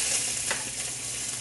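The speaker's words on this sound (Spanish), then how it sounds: "Vamos a guisar las habas" Fava beans cook in a pan with a steady, close sizzling and frying hiss and a faint stirring scrape, without any talk.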